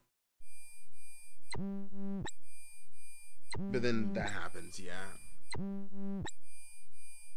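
Pure sine tone with slow oscillator modulation sweeps up and down in pitch in repeating rounded pulses, clean and steady, broken midway by someone speaking before the wobbling tone returns.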